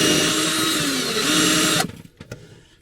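A power drill enlarges a hole through a motorhome roof while fitting a 5G antenna, running loud and steady for nearly two seconds before cutting off, followed by a few brief knocks.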